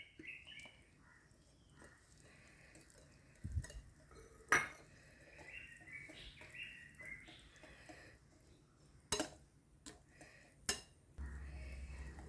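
Caramelised sugar syrup is mixed into banana cake batter, with quiet scraping and sporadic sharp clinks of a utensil against a bowl, a few louder knocks standing out over a faint background.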